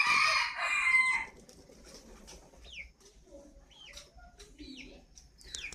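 Spotted doves in a breeding cage cooing softly in short repeated phrases, faint and somewhat distant, after an opening burst of loud, dense bird chatter and a rooster-like call.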